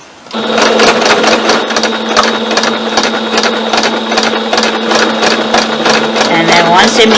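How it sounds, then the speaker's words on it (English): A sewing machine runs steadily while stitching a strapless shirt, its rapid needle clatter continuous and close, with brief pauses for backstitching and a voice speaking over it. "So I'm going to sew forward a couple stitches, backward a couple stitches, and we're going to go forward, done."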